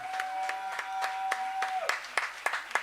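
A church congregation applauds during a sermon, a steady patter of hand claps with sharper individual claps standing out, while a sustained tone fades beneath and a voice speaks over it.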